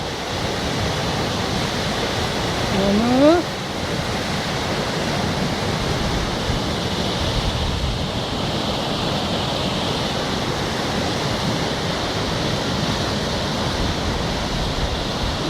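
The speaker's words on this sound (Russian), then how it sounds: "смотрите, как вода наскакивает на камни и подпрыгивает" The Teberda, a mountain river, rushes and splashes over rocks in a steady, loud roar that fills the whole stretch, with one short voiced exclamation early on.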